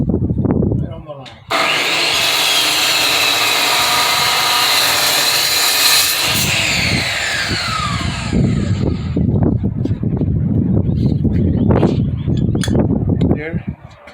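A power saw cuts steel tubing for a welding work table: a loud, steady grinding whine runs for about five seconds, then the motor winds down. Afterward come rumbling clatter and handling noises.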